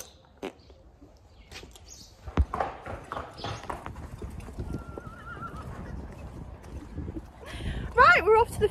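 A horse being led out to the field, its hooves clip-clopping in an uneven walking rhythm close by, with a loud whinny near the end and people talking nearby.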